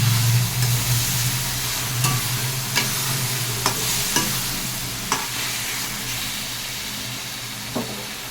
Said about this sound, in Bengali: লঙ্কা জিরে হলুদ ভিজিয়ে রেখে দিয়েছিলাম সেটাকে দিয়ে দিলাম। ভালো করে মশলাটাকে কষিয়ে নেব।